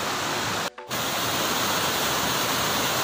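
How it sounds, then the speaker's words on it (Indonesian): A waterfall with seven pools at a village on Kei Besar in Maluku Tenggara, a loud, continuous rushing roar that fills the space, broken only by a split-second dropout near the start. "pemandangan air terjun yang ada di desa Pohoe Ad"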